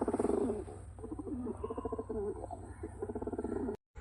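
A pigeon coos inside a house, its low, throaty calls repeating in a steady rhythmic series close by, with no talking.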